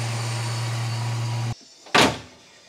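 A steady hum cuts off, then after a brief pause a single solid thud of a Volvo 240 door shutting nearby.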